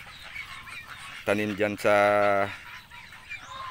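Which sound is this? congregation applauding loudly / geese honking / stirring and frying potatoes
geese honking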